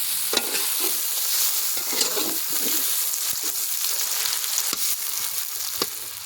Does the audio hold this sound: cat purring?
no